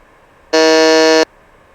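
A quiz buzzer on an Indian school quiz show sounds once, loud and steady, holding a bright, harmonically rich electronic tone for about seven tenths of a second before cutting off cleanly.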